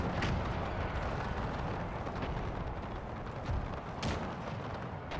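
Massed musket volleys and cannon fire from a Napoleonic-era battle in the Napoleon Era Mod, a dense continuous roar of overlapping shots and booms, with a couple of sharper bursts standing out.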